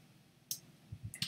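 Typing on a computer keyboard: a few quick, close, light key clicks scattered irregularly across a quiet moment.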